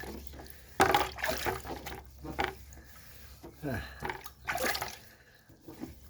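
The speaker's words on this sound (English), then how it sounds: "Rinse this off." Splashing water rinsing a sanded car part, in uneven close bursts of pouring and dripping with short pauses, a voice speaking at times over the water.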